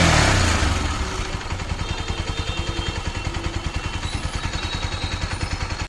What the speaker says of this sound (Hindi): वही जो बाइक में से काफ़ी नॉइस आती है, किट किट किट किट